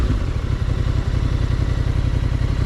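A 2025 Honda Transalp idles close by after warming up, a loud, steady low rumble with a fast even pulse and slight mechanical clatter, heard alone.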